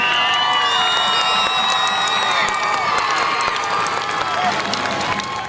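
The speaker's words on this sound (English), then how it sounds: "Please give a round of applause for all these students." A crowd in a court cheers, whoops and applauds for students, with loud high-pitched shouts and whistles over steady clapping throughout.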